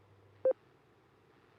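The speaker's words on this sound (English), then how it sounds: "my buzzer just went off" A ham radio operator's buzzer sounds in two short, moderately loud electronic tones, one near the start and another clipped at the end, separated by a quiet stretch.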